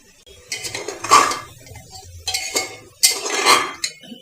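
Chicken and potatoes stirred in a pan with masala, a metal spoon scraping and clinking against the pan in repeated loud bursts, close and with no talking.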